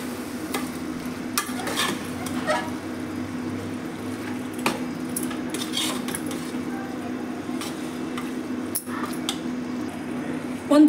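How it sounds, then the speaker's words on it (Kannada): A spoon stirs vegetables and fresh green peas in a pot for vegetable palav, with continuous scraping, soft sizzling and occasional metallic clinks close by. "ತರಕಾರಿ ಹಾಕಿದ್ಮೇಲೆ ಒಂದ್ಸತಿ ಚೆನ್ನಾಗಿ ಮಿಕ್ಸ್ ಮಾಡ್ತಾ ಇದ್ದೀನಿ."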